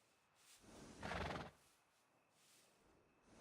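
A horse neighs in Red Dead Redemption 2, one loud, rough whinny of about half a second rising out of a steady game ambience, with faint hoof clip-clops around it.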